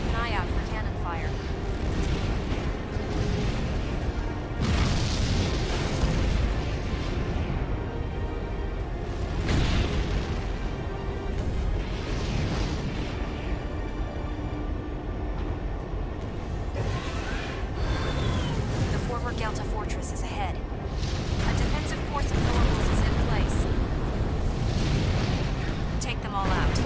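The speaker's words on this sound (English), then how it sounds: "You'll be entering the fortress's fixed cannon firing range shortly. Keep an eye out for cannon fire." In Armored Core 4, a fortress's fixed cannons fire heavy booming shots, and the deep blasts recur every few seconds over a constant rumble of mech engines and battle noise, with a radio voice talking in places.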